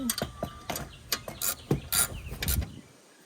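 Short mechanical clicks and ratcheting bursts from bolts being tightened on a Briggs and Stratton lawn mower, in an irregular series of close, sharp taps that stops near the end.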